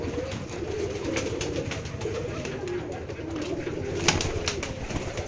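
Domestic pigeons coo steadily on a pigeon farm in Betikhola village, Keshabpur, Jessore, a dense layered murmur of many birds with a few sharper calls and a brief louder burst near the end.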